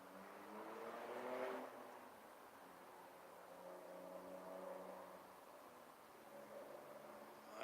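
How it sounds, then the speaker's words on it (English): An old truck drives by outdoors, its engine droning low and steady, swelling as it nears in the first seconds and then fading into a broad rumble that continues at moderate distance. "That sounds like an old truck."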